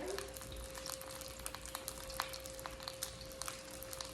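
Seitan searing in a hot pan, a steady low sizzle with scattered crackles and pops running throughout, faint and continuous with no talk over it.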